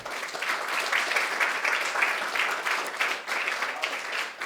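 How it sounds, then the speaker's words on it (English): An audience applauds steadily throughout, a dense, even wash of clapping from a crowd at an annual high school poetry awards event in New York City. "let's give a warm round of applause to our Vice President, Robert Kramer."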